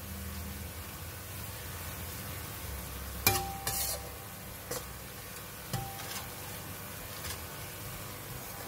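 Shallots frying in very hot oil in a pan, a steady low sizzle broken by several sharp scrapes and clinks of a utensil stirring, fairly close with no talking.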